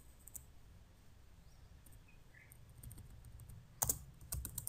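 Typing code on a computer keyboard, faint scattered keystrokes that build into a louder cluster of clicks near the end, with no talking.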